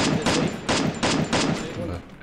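Rapid bursts of automatic gunfire in a video game, about five sharp evenly spaced shots in quick rhythm, loud and close.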